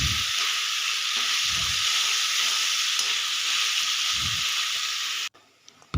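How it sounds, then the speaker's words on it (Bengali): Onion fries in a pan for a Bengali chili egg dish, giving a steady, bright sizzle that runs unbroken and close, with a few soft low stirring bumps, then cuts off abruptly near the end. "পেঁয়াজটা ভাজা হয়ে গেছে"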